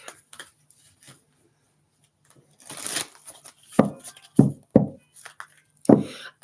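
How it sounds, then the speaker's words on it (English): A deck of cards being riffled and bridged several times in quick bursts, crisp and close, with brief pauses between shuffles. "So let's get some shuffles on that deck."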